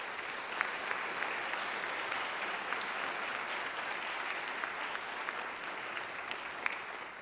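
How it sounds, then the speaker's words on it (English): A large audience at a senior honors night ceremony claps steadily, a dense wash of applause that holds at an even level throughout, heard from a slight distance. "I truly feel a huge round of applause"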